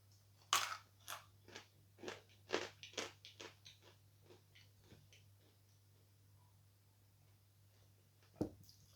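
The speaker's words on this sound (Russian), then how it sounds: "Этот сорт легко откусывается." Someone bites and chews sawn chalk, producing a run of sharp, dry crunches close to the ear that slow and soften into quieter chewing, followed by one more distinct crunch near the end.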